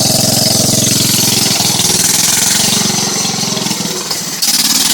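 Miller Roughneck engine, smoking slightly and suspected of a bad carburetor, running and idling close by with a loud, rapid pulsing chug that dips briefly before picking back up.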